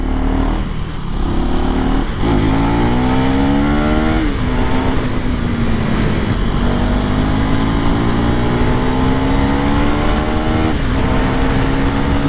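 A 2024 KTM Duke 390 motorcycle pulls hard through third gear on a track, its engine note rising steadily and loudly with continuous close, rough exhaust drone and brief dips between pulls.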